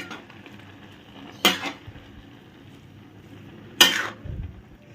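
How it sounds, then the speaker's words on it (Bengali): Carrot halwa with milk powder and new jaggery being stirred in a pan, two sharp metallic scrapes of a spoon against the pan standing out over a quiet background, close by and with no talking. "দিয়ে এটাকে খুব ভালো করে আবারও নাড়তে হবে, মিশিয়ে পুরো ওলট পালট করে"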